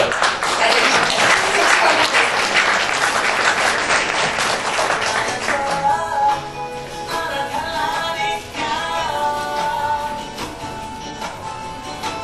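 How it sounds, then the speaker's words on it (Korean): Audience applause fills a Korean brand award ceremony as a prime minister's prize is presented, dense, steady clapping that thins and fades toward the end while soft background music plays. "여러분 역시 박수로 맞이해주십니다."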